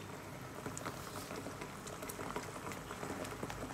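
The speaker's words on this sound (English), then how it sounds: "We'll just take a boil, let the curry boil for some time, let the masala boil." Ready-to-eat MTR chana masala curry bubbles in a pan on the stove, making a steady, soft, close simmering burble with small pops throughout and no talk.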